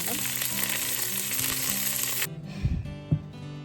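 Chillies hit hot oil, setting off a loud, dense sizzle that crackles steadily at close range and then cuts out abruptly. A couple of dull knocks of pan or utensil follow in the quiet.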